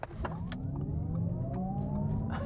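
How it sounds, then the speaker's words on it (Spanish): An Audi e-tron GT electric car pulls away and accelerates, heard from inside the cabin as a steady hum with a rising electric whine climbing in pitch, with a few faint clicks over the low road rumble. "Tengo activado el sonido para que en todo momento veáis cómo se oye desde dentro el coche"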